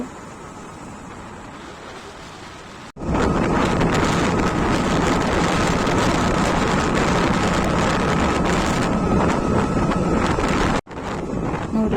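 Motorcycle ride carrying three people, heavy buffeting wind roaring loudly across the microphone for most of the stretch, starting after a quieter opening and dropping out briefly near the end.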